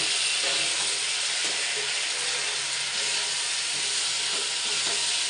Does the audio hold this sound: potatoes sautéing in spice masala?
yes